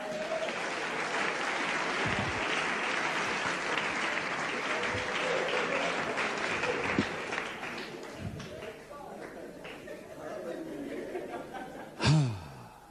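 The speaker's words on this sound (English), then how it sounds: "Clap your hand." A church congregation claps during a sermon, with dense sustained applause that thins out over several seconds, mixed with murmurs and a few louder voices near the end.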